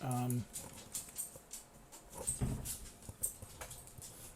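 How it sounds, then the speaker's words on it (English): A dog eager to play with its squeaky toys gives a short squeak, then soft, intermittent whimpers. The sounds are quiet, close and scattered, and someone talks over them. "If you heard a squeak, that was my dog."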